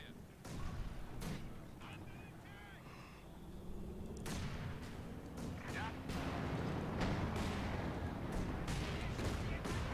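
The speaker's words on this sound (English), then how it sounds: "Big bombardments there right on all my units." Artillery bombardment in Company of Heroes 2 pounds down on units, a string of heavy booms and bursts over rumbling battle noise, with someone talking throughout.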